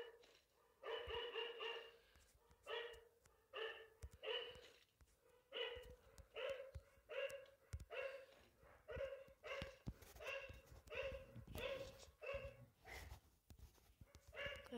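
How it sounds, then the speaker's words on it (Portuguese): A dog barks in repeated short bursts, steady and fairly regular, heard faintly as if from nearby in the background with no talk over it. "O cachorro da minha tia tá latindo."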